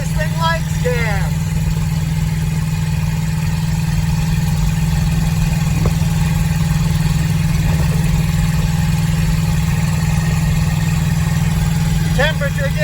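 A 1959 Edsel's engine runs steadily at a low, even drone while the car is driven gently, a constant near rumble with faint creaks and rattles from the cabin.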